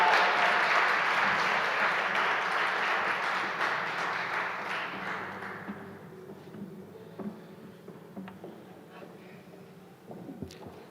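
Loud applause from an awards ceremony audience after a keynote speech, thick and full at first, then thinning and fading over several seconds into a quiet room with a few stray claps and thumps.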